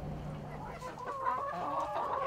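Backyard chickens clucking softly at moderate distance, a few short murmuring calls over a low steady hum.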